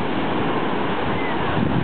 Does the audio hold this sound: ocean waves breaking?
yes